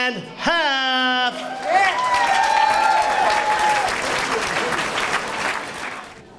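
An audience cheers and applauds loudly as the comedy act Half and Half is welcomed, a dense, sustained wash of clapping with whoops and an amplified announcer's voice over it, fading slightly toward the end.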